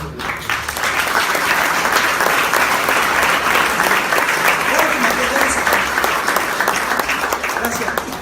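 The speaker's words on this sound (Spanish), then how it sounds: "un aplauso a Pepito Lebu." A crowd at a live comedy show applauds in tribute to a man named Pepito Lebu, a dense, steady burst of clapping that holds strong for several seconds without talk.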